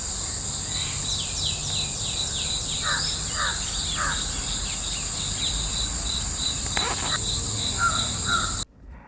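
Several crows caw in short bursts while gathering around a tree with a deer carcass in Bandipur forest. A loud, constant shrill of crickets runs underneath, and the calls are moderately distant.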